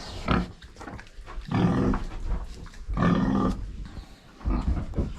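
Pigs grunting and snorting nearby in repeated rough bursts separated by short pauses, with no talking.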